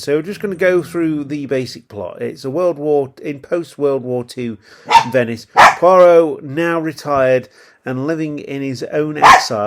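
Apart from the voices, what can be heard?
dog barking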